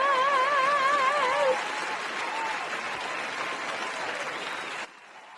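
Audience applause at a live talk show, steady dense clapping that runs for several seconds with a singing tone over the start, then stops abruptly.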